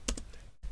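A few quick keystrokes on a computer keyboard, soft close clicks in a short burst with a brief pause before one more tap.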